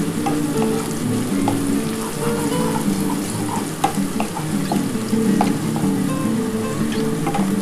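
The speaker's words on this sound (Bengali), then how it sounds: "দেখো পেঁয়াজটা আর রসুনটা ভালো করে ভাজা হয়ে এসছে।" Onion and garlic fry in a pan, a steady close sizzle with occasional scraping stirs and light clinks throughout, no voices.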